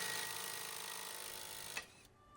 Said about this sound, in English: Then with a little reverse pressure with an impact driver,